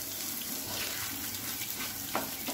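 Pearl millet and chopped onion sautéing in a pan for chutney, a steady soft sizzle and hiss with no voices over it.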